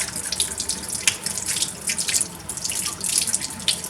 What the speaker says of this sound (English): it needs to be thoroughly washed. So you're going to use cold water.